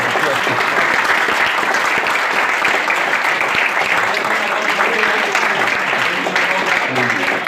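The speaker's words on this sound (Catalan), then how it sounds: "demanaria, si us plau, un aplaudiment per l'Albert." A crowd gives a long, even round of applause at a public tribute event, with loud, continuous clapping that holds steady throughout.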